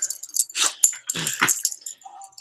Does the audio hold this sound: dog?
yes